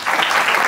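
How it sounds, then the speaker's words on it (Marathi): Audience applause at a devotional kirtan gathering, a steady dense wash of many hands clapping together, loud and continuous throughout the short burst with no voices rising above it. "आमच्या वेदिकरी बाबासाठी जोरदार टाळी वाजवा."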